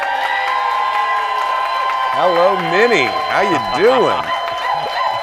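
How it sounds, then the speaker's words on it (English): A studio talk-show audience applauds and cheers for a guest, with a steady dense wash of clapping underneath and a voice greeting someone over it. "a Minnesota applause is delightful"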